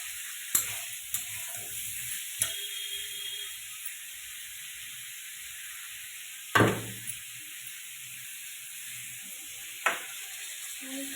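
Spice paste fried in a pan sizzles steadily while water is poured in and stirred, with a few sharp clinks of a spoon against the pan and one louder hissing burst of steam.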